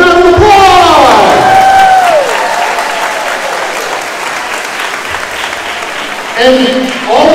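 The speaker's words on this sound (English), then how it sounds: "Let's give them a big round of applause!" Loud crowd applause breaks out with cheers and whoops for sponsors at a community hunger-relief charity event, starting with shouted voices, settling into steady clapping, then rising again with more cheering at the end.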